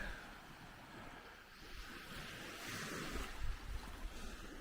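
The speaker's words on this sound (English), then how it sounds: "it's a pretty day at the beach today." Waves wash steadily on a beach on a pretty day, a faint, continuous surf hiss with some wind, swelling slightly toward the end.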